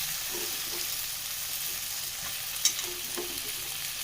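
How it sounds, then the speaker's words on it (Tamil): Tomato, onion, garlic and drumstick sautéing in a clay pot for a village-style dry fish curry, a close, even sizzle with a few soft stirring touches and one brief sharp click. "இதை நல்லா வதங்கட்டும்"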